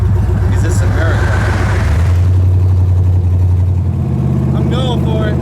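An LS-powered nitrous Chevy Nova drives along an interstate, its engine droning loud and close with a steady low rumble that shifts in pitch as it changes gear and speed, while a voice talks over it.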